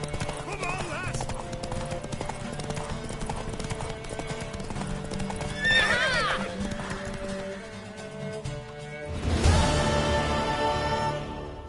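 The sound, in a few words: horse hooves clip-clopping and neighing in a video game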